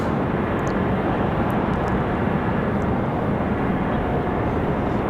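An Air France Boeing 787 Dreamliner lands with a steady, loud, wide engine roar that holds evenly throughout, no voices over it.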